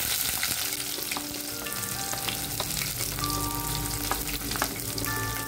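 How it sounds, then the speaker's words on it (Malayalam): Chopped shallots fry in hot coconut oil with mustard seeds. A dense, loud, steady crackle and sizzle fills the whole stretch, close up, with small pops scattered through it and no voices. "ഇനി ഇതിലേക്ക് കുറച്ച് അധികം വരുന്ന ചെറിയ ഉള്ളി അരിഞ്ഞതാണ് ചേർത്ത് കൊടുക്കുന്നത്."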